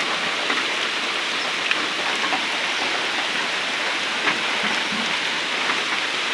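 Gentle rain, the first good shower in Kachua, Chandpur, lightly wets the roads, giving a continuous soft hiss of drops with occasional slightly louder splashes and no talking.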